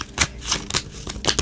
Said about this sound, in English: Let's start shuffling the tarot deck.